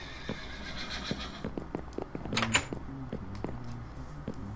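A Minecraft horse whinnies once over soft hoof clip-clops and faint clattering, fairly quiet and close, with no talking.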